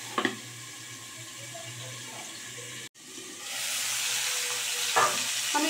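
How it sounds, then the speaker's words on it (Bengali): Cauliflower frying in a covered pan, a steady broadband sizzle that briefly cuts out, then returns louder and brighter with a couple of faint clinks, close and alone with no voices. "ফুলকপি এবারে আমি কিন্তু খুব ভালো করে ভেজে নেব"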